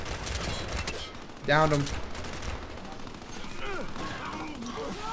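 Bursts of Retro Lancer assault rifle fire in a Gears of War team deathmatch match crackle under other game sounds, with one loud impact sound, while a player talks briefly over it.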